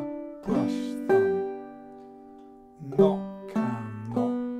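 Clawhammer banjo playing Speed the Plough, with a few sharp plucked attacks and ringing tones in two short bursts separated by a pause, close and clear with no talk.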